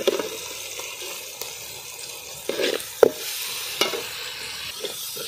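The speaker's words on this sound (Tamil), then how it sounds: "வெங்காயம் தக்காளி நல்லா வதங்கிடுச்சு" Onion and tomato with ginger-garlic sautéing in a pan for a goat boti fry, a continuous close sizzle punctuated by a few louder spoon scrapes and knocks against the pan; no voices.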